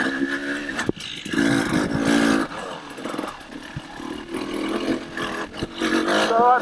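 Beta 300 RR Race Edition two-stroke dirt bike with an RK Tek head, ridden on its first outing; its engine drones and revs up and down steadily at moderate distance throughout, with no talk.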